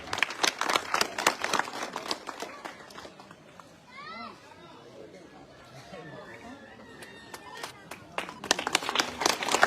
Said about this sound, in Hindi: आप सब लोग जोरदार तालियों के साथ उत्साहवर्धन